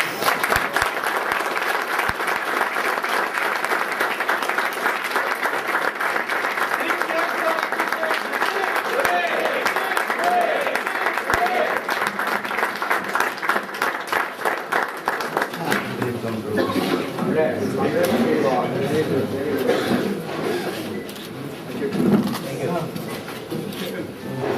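Crowd applause at a canteen building inauguration runs strongly for about fifteen seconds, then fades into a murmur of people talking and moving in the room.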